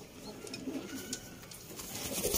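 Sialkoti high flyer pigeons cooing, soft repeated low coos close by over faint background noise, with no talk.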